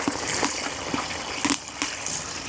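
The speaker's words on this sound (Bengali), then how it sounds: "পরিমাণ মতো পানি দিয়ে দেবো" Water poured into a pot of cooking duck curry, a soft continuous trickle and splash with a few light clinks of utensils, close by.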